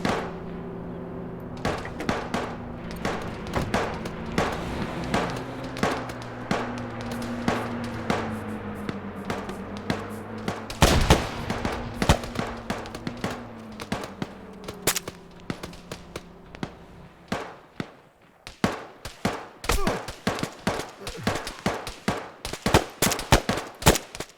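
Sporadic gunfire in a military shooter video game, sharp shots cracking out in irregular bursts and single reports over a steady droning engine-like hum, growing denser and louder toward the end.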